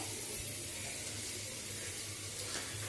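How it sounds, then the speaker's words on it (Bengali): Grated radish squeezed by hand to press out its water, giving a soft, steady trickling and dripping hiss, faint and close, with no voices. "এরপর আমি মূলোটা জলটা চিপে বার করে দেব।"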